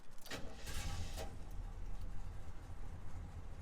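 A 1969 Chevrolet Caprice V8 turns over on its starter and catches, leaving a faint, low, steady idle rumble with a few light clicks early on.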